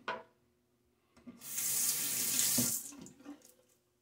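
A tap runs water into a shaving bowl for about a second and a half, a bright hissing splash that starts abruptly, tapers off, and is framed by a few small clinks before and after.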